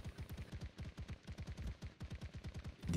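Andrewsarchus turret in ARK: Survival Evolved firing advanced rifle bullets, a rapid, steady burst of automatic shots in an even rhythm, fairly quiet and heard alone.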